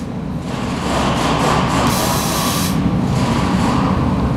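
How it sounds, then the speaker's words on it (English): Rust-proofing spray wand test-sprayed in a 360-degree circle, a loud, dense continuous hiss with a compressor-like rumble underneath, close and steady. "We're going to test spray this wand to make sure it's functioning properly, and I'll show you how it sprays."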